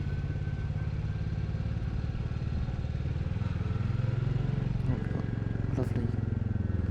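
A Royal Enfield Classic 350 riding at night into a small village in Spain, its steady low engine thump continuous and close, with wind noise and a rider speaking over it.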